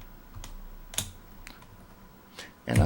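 A few sparse keystrokes on a computer keyboard while typing a BASIC program line, finishing with a louder, heavier key thump; no voices.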